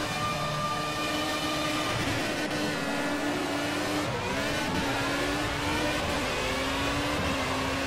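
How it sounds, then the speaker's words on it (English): A Formula A racing car engine in a video game revs up and down repeatedly at a standing start, rising and falling in pitch, loud and continuous with a synthetic, game-like tone. "give it some revs"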